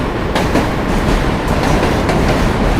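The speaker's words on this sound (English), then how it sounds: "J-Train coming at you again." A New York City J subway train rumbles past loudly and up close with a continuous clickety-clack of wheels on the rails on an April walk from Williamsburg to Manhattan, with no talk over it.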